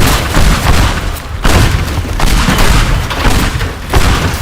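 Explosions in the video game Teardown, where a house and office are destroyed, roll out as a rapid barrage of loud, booming blasts and thuds, one crowding into the next with brief dips between.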